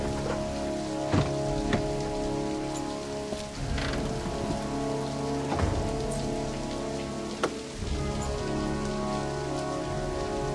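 Steady, dense rain from the video game Heavy Rain pours onto a hard surface with scattered heavier drops and a low rumbling bed, continuous and fairly loud for the whole stretch.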